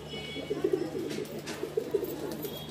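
A pigeon coos in two short, throaty phrases, soft and close, over a quiet background hum.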